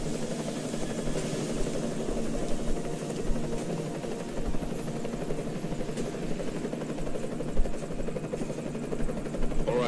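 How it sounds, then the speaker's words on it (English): An enemy helicopter in Deus Ex: Mankind Divided drones on as a low, steady rotor and engine rumble, moderately faint and continuous throughout. "Enemy helo sighted."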